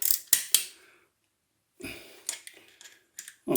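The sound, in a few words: socket wrench turning bolts on Honda VFR800 stator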